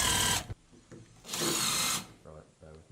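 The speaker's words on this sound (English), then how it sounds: "Now get an electric drill and 12mm countersunk screws and drill these into the edge of your trim" Electric drill driving 12mm countersunk screws into the edge of PVC wall panel trim, two loud high-pitched whirring bursts close up with quiet pauses between them.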